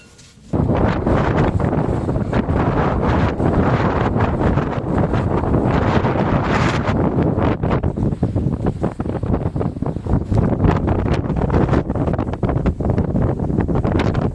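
Strong wind roars continuously at Pyramiden, Svalbard, buffeting the microphone with heavy rumbling gusts and no break for the full length.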